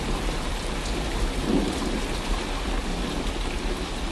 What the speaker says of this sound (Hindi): कुछ ही देर में बारिश के साथ साथ ओले भी गिरने लगते हैं।